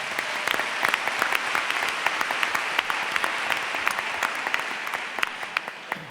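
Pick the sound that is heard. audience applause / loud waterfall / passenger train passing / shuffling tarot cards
audience applause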